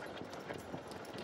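Horse hooves clip-clop steadily while a horse pulls a farm implement during field work in Farming Simulator, a quick even rhythm of soft thuds over continuous low rumble, fairly quiet and steady throughout.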